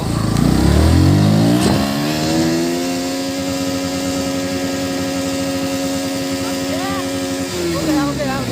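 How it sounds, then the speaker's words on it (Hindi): A new motorcycle revving hard in first gear, engine pitch climbing and holding high and steady for several seconds before easing off, loud and close, with voices talking over it. "1 गियर में टॉप स्पीड दिखाऊंगा आप लोग को"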